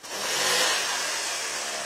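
A car engine with an idle stop mode, started and revved, giving a loud broad rushing roar that swells quickly and then holds steady without any talk.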